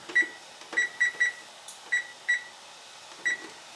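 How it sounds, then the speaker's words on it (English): A kitchen timer being set gives a series of short, high electronic beeps at irregular intervals, single or in quick pairs, close by and fairly quiet, with faint clicks of button presses and no talk. "I gotta set my timer."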